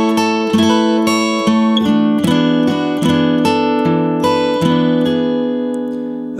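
Acoustic guitar plays a transition riff, a steady run of bright picked notes with ringing chord tones, played solo and close with no talking.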